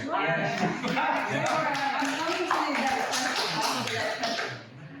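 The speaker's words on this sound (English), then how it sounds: "and then you heard 2 or 3 claps" A few scattered claps from an audience ring out in a played recording during a political event, dense with speech and crowd noise throughout.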